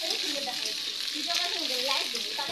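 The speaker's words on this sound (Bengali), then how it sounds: "এখন আমি তরকারিগুলো ভালোভাবে একটু নেড়ে চেড়ে নেব।" Chopped potato, papaya, green banana, pointed gourd and vine spinach stalks frying in a pan, a dense, even sizzle with faint tonal sounds over it and no clear stirring strokes.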